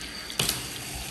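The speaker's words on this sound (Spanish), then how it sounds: "Les quería enseñar el agua" Tap water runs in a new apartment's sink, a steady soft hiss with a brief louder gush near the middle, heard close with no voices.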